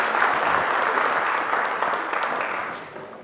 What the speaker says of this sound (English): Please join me in giving a big round of applause for Kutral and Dayakar